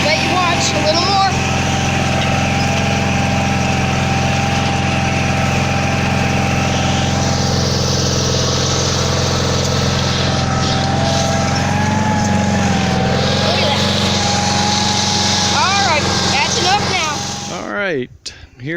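A 1977 Sears garden tractor plowing a garden drones steadily and loudly up close, its engine note shifting slightly as the load changes, before the sound cuts off abruptly near the end.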